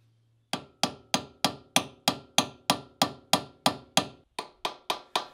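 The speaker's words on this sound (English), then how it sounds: "Here the chisel is needed to get under a sneaky little lock tab securing the hub nut." A hammer strikes a chisel driven under the lock tab of a hub nut on a Series 1 Land Rover, about fifteen sharp, ringing metallic blows in a steady rhythm, close and loud, each decaying briefly before the next.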